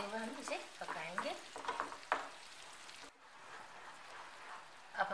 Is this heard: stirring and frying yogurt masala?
yes